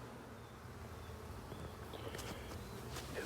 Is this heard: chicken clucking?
no